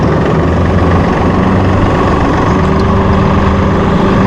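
A Massey Ferguson 2604H small-chassis 2WD utility tractor engine runs loud and close in a steady, unbroken rumble that holds constant throughout.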